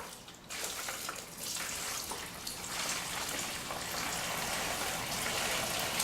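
Hot chicken stock pours steadily in a continuous splashing stream for several seconds, close by, with no talking.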